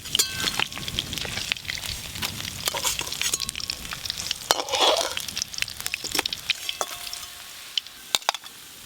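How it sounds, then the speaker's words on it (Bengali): Pieces of catla fish crackle and sizzle in hot cooking oil, a dense continuous frying hiss with sharp pops and spatters, close and loud, with no talking. "এই মাছগুলো পপির মতোই ভেজে নিয়েছি, এবার তুলে নেবো।"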